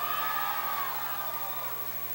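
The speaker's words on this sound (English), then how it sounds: "And you can hear the crowd." A crowd at an ICW pro wrestling event in Miami, Florida, in 2011 cheers and whoops in a steady, fairly loud wash of voices, with a few shriller yells standing out and slowly easing off.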